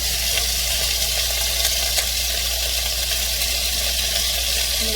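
A pot of rice and water coming to a boil, heard as a loud, constant hissing bubble with a low steady hum beneath it, close and unbroken throughout.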